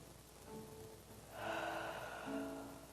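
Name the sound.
deep breath in during guided meditation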